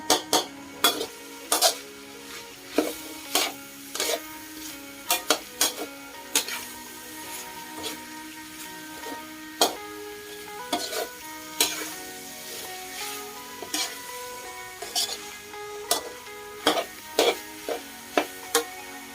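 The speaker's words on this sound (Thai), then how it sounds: "ผัดไปเรื่อยๆ ผัดไปจนกว่าเม็ดข้าวโพดจะสุก" Sweet corn kernels stir-fried with curry paste in a pan for a spicy Thai stir-fry with pork belly, with repeated sharp scrapes and clinks of a spatula against the pan over a soft, steady sizzle.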